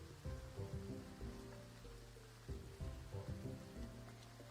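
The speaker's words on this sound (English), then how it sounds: "Oh, it is raining." Steady rain falls in the graveyard-management video game Graveyard Keeper, a soft even patter laid under looping tonal game music, with no voices.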